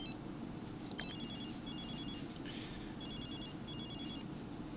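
A cell phone in The Sims 3 trills in rapid electronic bursts, three clusters of quick beeps over a steady background of game music and ambience, fairly quiet.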